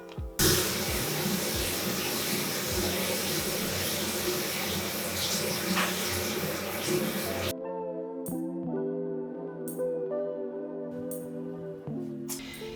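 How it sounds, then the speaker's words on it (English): Water from a hotel bathroom shower pours in a dense, loud hiss for several seconds, then cuts off abruptly, leaving faint tonal room sounds with a few short spurts and drips. "I'm gonna test out this really nice shower that I got in the bathroom."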